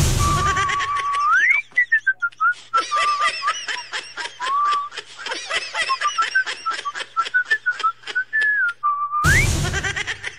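A person whistles a wavering, rising tune close by, broken up by bursts of giggling and snickering laughter.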